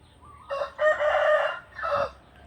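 A rooster crows once, a loud cock-a-doodle-doo of several drawn-out notes, fairly close and clear over quiet background, outdoors by a canal behind a house.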